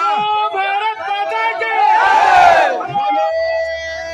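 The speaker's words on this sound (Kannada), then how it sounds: "ಒಂದ್ಸರ್ತಿ ಜೋರಾಗಿ ಎರಡೋ ಕೈಗಳೆತ್ತಿ ಭಾರತ ಮಾತೆಗೆ ಜೈಕಾರ ಕೂಗೋಣ" Crowd at a protest rally in Arasikere shouting a loud chant in praise of Mother India, many voices swelling together into a rising roar at close range.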